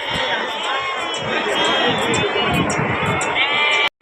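Sheep and goats bleat repeatedly at a busy Gudur sheep and goat market, dense overlapping calls from many animals up close, with crowd chatter and talk mixed through the whole scene.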